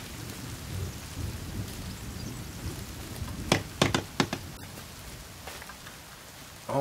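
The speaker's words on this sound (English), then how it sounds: "Good thing it's raining." Rain falls steadily in the survival video game The Forest, a soft continuous hiss with a few sharp crackles of thunder or heavy drops in the middle.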